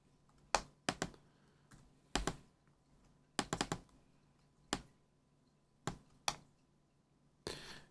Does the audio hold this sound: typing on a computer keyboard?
yes